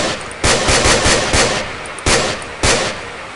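An FN FAL rifle in a video game gun mod fires single shots, several loud sharp blasts in an uneven rhythm, each ringing briefly before the next.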